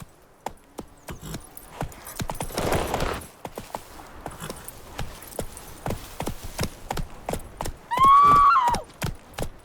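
Roach the horse from The Witcher 3 game gallops in a steady clip-clop of hoofbeats across the whole stretch, with a loud whinny rising near the end.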